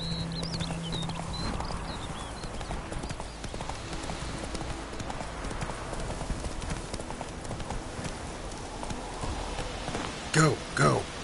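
Hoofbeats of the horse Roach galloping in The Witcher 3, a steady clip-clop rhythm running throughout, with a voice speaking over it and a couple of louder thumps near the end.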